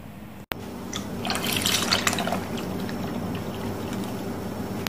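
Milk is added to carrot and rice payasam in a pot, a soft liquid splash building for about a second amid quiet kitchen background.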